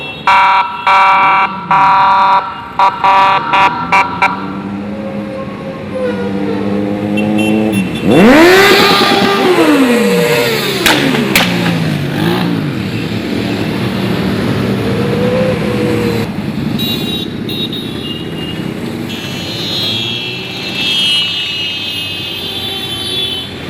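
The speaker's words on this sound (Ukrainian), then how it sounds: "супроводжується звуками сирени та неймовірно неймовірним і захоплюючим ревом моторів" Motorcycle engines roar and rev loudly for a long stretch during a motorcycle parade in a city center in Rivne, Ukraine, with a wailing siren sweeping up and down partway through.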